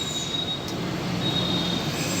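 Passenger train running between Dhaka and Kushtia near Padma station, a loud steady rumble from on board with a sustained high metallic wheel squeal across the whole stretch.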